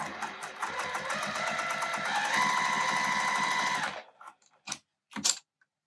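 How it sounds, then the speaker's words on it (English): A sewing machine basts around the edges of layered quilt fabric, running in a steady, fast rhythmic stitch for about four seconds before stopping, followed by a few faint clicks and handling sounds. "I'm just gonna baste around the edges to hold all of these layers together"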